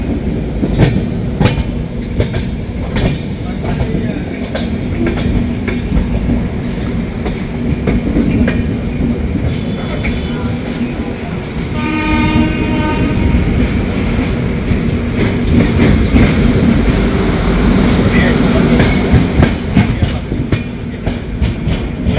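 The Sealdah New Delhi Rajdhani Express runs through Ghaziabad Junction, heard from inside the coach as a loud, continuous rumble with rhythmic clickety-clack of wheels over rail joints and a brief metallic squeal partway through.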